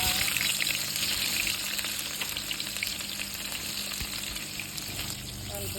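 Sliced onions fry in hot oil in a pan at the start of a mackerel fish curry, a dense continuous crackling sizzle with light stirring scrapes, close and even, with no voices.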